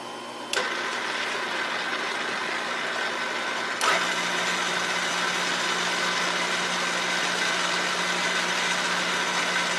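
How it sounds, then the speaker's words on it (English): A drill press motor hums and whines steadily up close while drilling an early small-block Chevy 041 cylinder head at 30 degrees, with two sharp clicks as it starts and shifts, running continuously without voices. "So I'm drilling them at exactly 30 degrees per the instructions on the internet."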